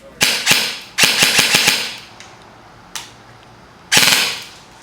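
A VFC/Elite Force H&K MP7 A1 airsoft gun firing outdoors, loud sharp close shots in quick bursts: a short double, then a rapid string of about six, a lone shot and a final short burst.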